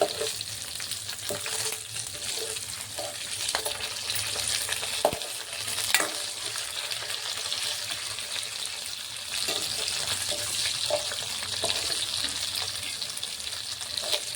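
Green chillies with garlic cloves fry in a pan for a tamarind chutney, giving a steady close sizzle with occasional sharp stirring clinks and scrapes; nobody speaks.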